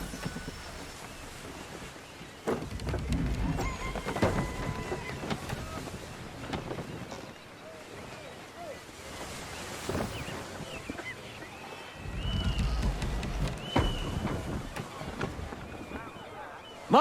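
A sailing ship from Assassin's Creed 3 cutting through shallow water, with steady wind and water rush, low rumbling swells that rise twice, and scattered creaks and splashes throughout.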